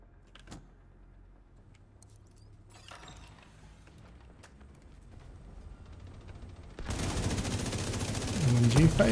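A light machine gun firefight plays out in a video game, with Raker and Outcast squads using LMGs. It opens quietly with scattered clicks, then swells into dense, loud, continuous automatic fire over the last few seconds.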